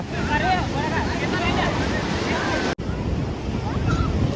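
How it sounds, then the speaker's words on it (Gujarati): Sea waves roll onto a busy bathing beach at Mahabalipuram, Tamil Nadu, near the Shore Temple. The surf is a steady, dense wash mixed with heavy wind buffeting on the microphone, with a brief dropout midway. "સરસ મજાના દરિયા કિનારે લોકો નાય છે"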